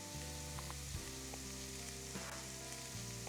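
Shallots sautéing in a hot pan give a continuous, even sizzle close by, with steady bubbling and a faint musical hum underneath.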